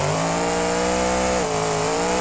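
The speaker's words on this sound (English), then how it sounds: "it should be running a diesel engine, but I'm sure a supercharged Hemi engine is no environmentally friendly thing" Supercharged Hemi engine in a monster truck in the BeamNG video game, revving loud and steady with a sustained whine that dips briefly, then climbs again.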